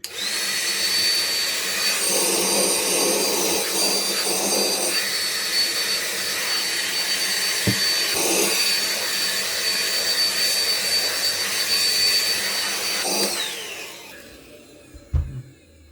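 Einhell cordless 18V vacuum cleaner running steadily as it sucks up dirt, a loud continuous whine with brief clatter of debris, then switching off and winding down near the end.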